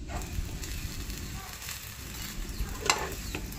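Sweet boorelu fry in oil in a pan, a continuous close crackling sizzle with soft scraping and a sharp pop near the end.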